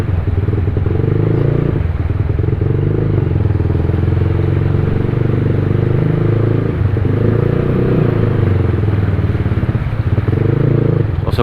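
A motorcycle rides through a flooded barangay in San Pascual, Hagonoy, Bulacan, its engine a steady, loud, close drone that holds throughout with brief clattering and splashing.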